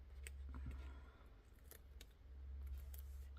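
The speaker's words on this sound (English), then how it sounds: "I think I'm gonna cut it" Close, quiet snips of scissors cutting paper collage ephemera, several short crisp cuts scattered over a few seconds against a low background hum.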